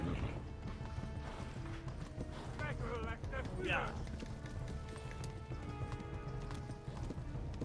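Rhythmic hoofbeats of a galloping horse in Kingdom Come: Deliverance with a brief whinny, set against a busy, dense background of game sounds and music.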